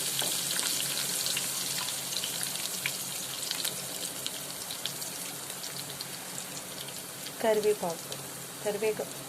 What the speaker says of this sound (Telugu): కొంచెం అంటే కొంచెం ఆనియన్స్ వేసి చక్కగా ఎర్రగా వేగనివ్వండి.